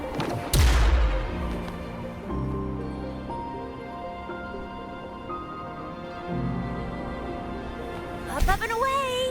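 A loud blast opens a cliff face in Wuthering Waves, a sharp boom near the start followed by rumbling debris and game music, with a second impact burst near the end.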